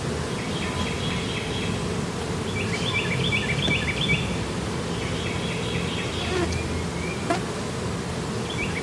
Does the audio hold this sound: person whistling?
no